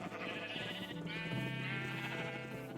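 A sheep in the Minecraft video game bleats in one wavering synthetic call at moderate level over a steady background hum, with no talk.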